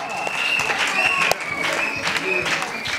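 Audience at a school event in Kinshasa applauding steadily, dense clapping mixed with crowd voices and talk throughout.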